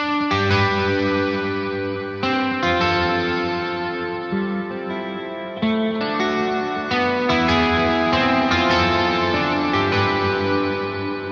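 Electric guitar played through an Eventide H90 pedal on its Ballerina algorithm, ringing out sustained, shimmering chords with a thick chorused, effected tone that fills the whole passage continuously with no talking.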